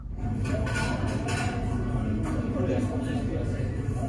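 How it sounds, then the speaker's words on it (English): Open air cafe ambience from a 2020 Hyundai Sonata's nature sound feature, a dense murmur of background chatter and clatter playing steadily throughout. "And next, there's Open Air Cafe,"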